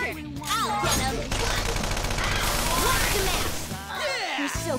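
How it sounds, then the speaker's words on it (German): Rapid gunfire bursts and crashing hits in the Persona 5 Royal video game, loud and dense over a game soundtrack, with voice lines cutting through near the start and end. "da können wir schießen"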